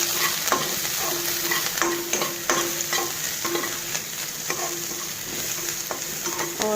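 Onions frying with cumin seeds in a hot pan, a continuous bright sizzle with frequent rhythmic spatula scrapes and taps, close and fairly loud, no voices.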